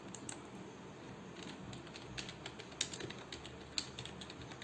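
A data source name is typed on a computer keyboard, producing faint, sparse keystroke clicks at an irregular pace with a couple of slightly sharper taps, and no speech.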